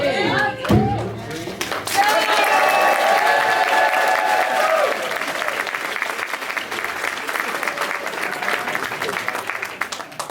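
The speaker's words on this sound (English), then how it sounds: "I think I get some clapping, right?" Crowd applause and clapping break out at an outdoor lakeside luau cocktail contest, a sustained burst of many hands with people talking and cheering over and around it.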